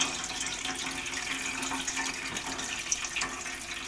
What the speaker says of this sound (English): Pour it through the other grain.